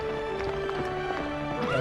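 Horse hooves clip-clop over steady game music, and a whinny rises near the end, all from The Silver Brumby video game; the sound is continuous and moderately loud.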